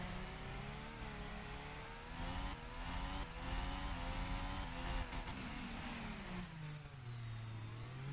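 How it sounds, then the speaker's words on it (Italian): A Ferrari Formula 1 engine revs hard in the F1 2016 video game at the Monaco Grand Prix, its high whining tone rising and falling through gear changes. The engine stays loud and continuous, with no talking over it. "e vai di motore Ferrari"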